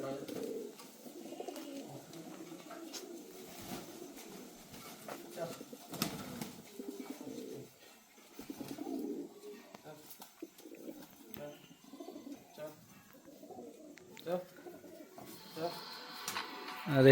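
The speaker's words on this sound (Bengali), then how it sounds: "শ্যামদার বাড়িতে পায়রাগুলো দেখুন, এই যে কত সুন্দর বেরিয়ে যাচ্ছে।" Pigeons kept at a home coo in low, throaty, repeated phrases, fairly close, while a person talks over them and a brief flutter of wings rises at the end.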